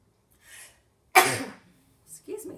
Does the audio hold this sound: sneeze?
yes